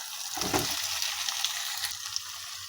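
Fried peas and potatoes are stirred into an oily, dhaba-style gravy in a pan, giving a steady close sizzle with a soft clunk of the stirring spoon early on.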